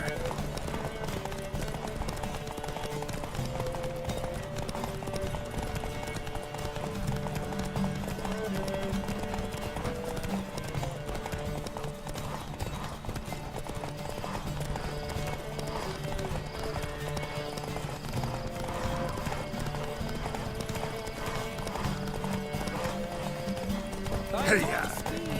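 Horses gallop in a race in The Witcher 3, a steady run of hoofbeats with an occasional whinny beneath game music and voices, the pounding continuous throughout.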